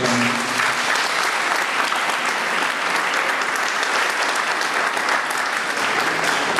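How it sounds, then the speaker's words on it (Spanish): An audience at an academic labor law talk gives loud, dense applause after the question session, a continuous roar of clapping throughout. "No habiendo más preguntas, brindémosles nuevamente un fuerte aplauso"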